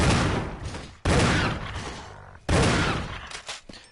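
Three loud, close gunshots in the Resident Evil Remake, spaced about a second or so apart, each cracking sharply and then ringing out into a decaying echo.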